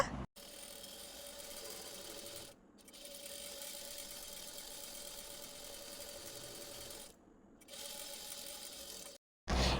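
A sewing machine stitches folded half-inch cloth into piping for a star-shaped blouse neck. It runs in steady, even whirring stretches broken by brief pauses, close up and without voices.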